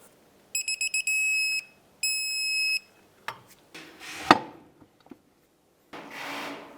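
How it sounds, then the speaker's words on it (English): A torque wrench tightens a lower control arm bolt to 110 foot-pounds on a 2003-2007 Nissan Murano. Two shrill electronic beeping bursts are followed by a ratcheting creak, a sharp click and a final scraping rub, close up with no talking. "And let's torque it to 110 foot-pounds."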